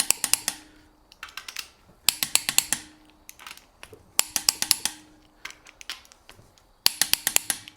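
Wrench ratcheting on the cylinder head bolts of a 2009 Subaru Forester during a head gasket install, heard as clustered bursts of sharp clicking pawl strokes, close and fairly loud, with brief pauses between sets.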